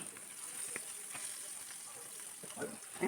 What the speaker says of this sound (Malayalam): അത് എണ്ണ ചൂടായി കഴിയുമ്പോൾ മീൻ ഓരോന്നായിട്ട് വെച്ച് കൊടുക്കാം ഒരു വശം മൂത്ത് വന്നു കഴിയുമ്പോൾ തിരിച്ചിട്ട് കൊടുക്കാം